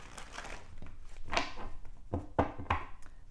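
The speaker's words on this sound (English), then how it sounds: "I just want to give these a good shuffle" Tarot cards are shuffled by hand close up, giving a series of soft papery riffles and taps in irregular bursts over a few seconds.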